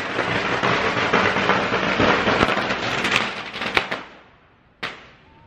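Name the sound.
firecrackers exploding inside a temple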